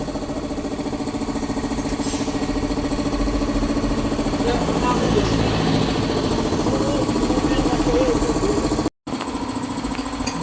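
A Suzuki Skydrive Sport scooter fitted with off-road tires idles nearby, its engine running as a steady, fairly loud mid-pitched drone throughout, with faint voices in the background and a brief dropout near the end.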